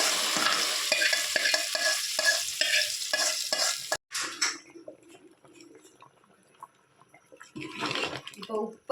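Popping mustard-seed tempering hits a simmering taro curry with a loud burst of close sizzling and crackle, then cuts to quiet bubbling and a brief later flare of sizzle, with someone speaking lightly in between.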